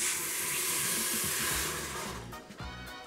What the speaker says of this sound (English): I'm gonna go ahead and add some of this beef consomme